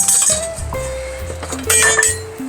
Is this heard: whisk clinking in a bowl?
yes